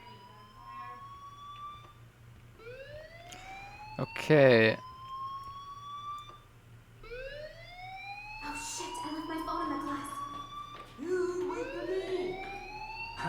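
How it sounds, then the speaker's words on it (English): In the Life Is Strange video game, a school fire alarm sounds as repeated rising electronic sweeps under a hum. Someone talks over it, and a sharp clatter comes near the middle. "do you hear that fire alarm?"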